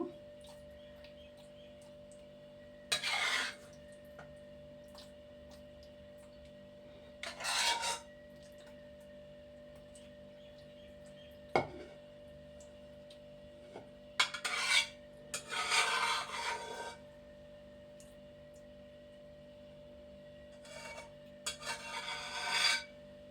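Veg manchurian being scraped from a pan into a container, with intermittent rasping scrapes of a spoon against metal in short separate bursts over a steady low hum, close and quiet.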